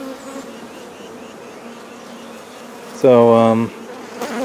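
Honeybees buzz around an open hive that is preparing to swarm, a soft continuous hum with one louder, closer burst as a bee passes near, and a single brief spoken word.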